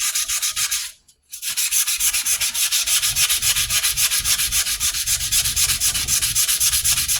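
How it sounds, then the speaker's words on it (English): Hand-sanding a forged steel blade: rapid rhythmic back-and-forth strokes of abrasive on metal, close and steady, broken by a brief pause near the start before the scrubbing resumes at an even pace. "So we might be able to sand that out."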